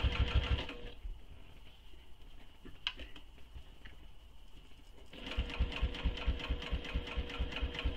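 Stitching slowly along a seam of a clutch bag, a sewing machine runs in short bursts, a brief run at the start, a quieter pause with light handling clicks, then a longer steady run near the end.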